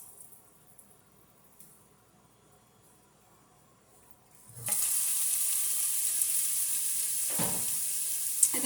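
Beef is returned to a pan, quiet at first with faint handling, then a sudden loud sizzle that holds steady, with a brief stirring scrape partway through.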